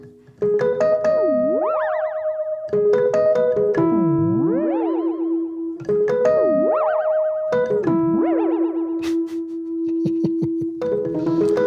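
Guitar notes pass through a Moog MF-104S analog delay whose time is being changed, making echoes bend and warble in pitch, producing swooping, springy repeats in a looping pattern.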